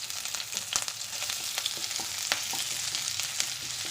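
Crushed ginger and a handful of crushed garlic cloves fry in hot oil, giving a steady, close hiss of sizzling with scattered crackles and pops throughout and no voices.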